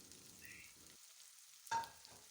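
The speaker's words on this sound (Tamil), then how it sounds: "பாவக்காய் நல்லா எண்ணெயிலே கொஞ்சம் ரோஸ்ட் ஆகணும்" Bitter gourd roasting in oil in a pan over moderate heat gives a faint, low sizzle, broken by a brief, sharper clatter of stirring partway through.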